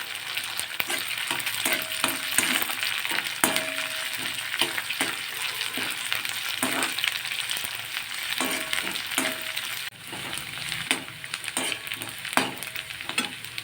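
Onions and green pepper sizzle steadily in a pan, with a continuous crackling hiss and occasional scrapes of stirring, no voices.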